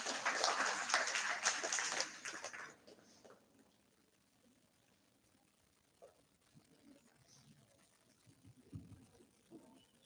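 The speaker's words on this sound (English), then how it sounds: "Everybody, a round of applause for her." Audience applause at an all-India school debate competition, loud and dense for about two and a half seconds, then cutting off into a quiet room with faint shuffles and small knocks.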